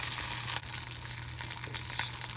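Herring fillets fry in a pan with a continuous bright sizzle and crackle. The sound holds close and steady, with a few small pops and splashes and no voices.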